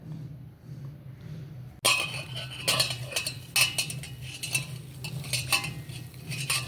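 Coriander, curry leaves and green chilies being mixed by hand in a metal bowl: quiet at first, then close, repeated scraping and clinking of utensils against the bowl in an uneven rhythm.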